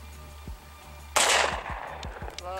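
A single sharp gunshot fired at targets on an outdoor range rings out loudly over a low engine-like hum, followed by a decaying echo and faint background noise.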